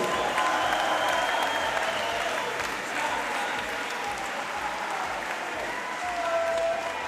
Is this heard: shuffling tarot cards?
no